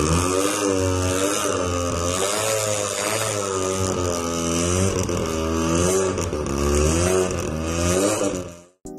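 A Mazda RX-7 with a Wankel rotary engine revs continuously and loudly, its buzzy pitch climbing and falling in repeated close-up surges, with no voices.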